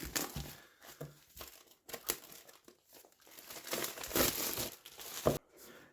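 Plastic wrapping and packaging of a Warhammer Underworlds Gnarlwood box being torn open and unwrapped, with steady close crinkling, crumpling and tearing bursts that rise and fall over several seconds, no voices.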